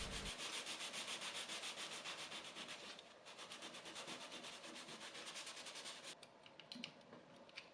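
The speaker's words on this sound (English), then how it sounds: "I just used some sandpaper and also my utility knife just to scrape it off" Sandpaper scrapes paint off a vintage wooden cabinet in quick, steady back-and-forth strokes, close and rhythmic, with a brief pause partway through.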